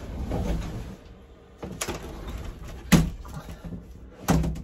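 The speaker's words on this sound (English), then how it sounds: "close the doors behind us." Doors in a travel trailer close with several sharp knocks and thuds spread across a few seconds, over a muffled room background with no speech.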